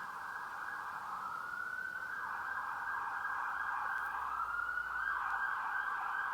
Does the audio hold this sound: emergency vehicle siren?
yes